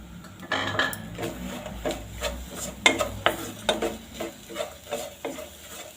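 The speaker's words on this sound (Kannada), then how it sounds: "ಇವಾಗ ಇದೆಲ್ಲ ಬೆಲ್ಲ ಇದಾಗೋವರೆಗೆ ಹುರ್ಕೊಳ್ಳೋಣ." Wheat flour and crushed jaggery are stirred and roasted together in a pan for modak, giving irregular scraping and clinking strokes of a spoon against metal with a faint sizzle, close and moderately loud, with no talking.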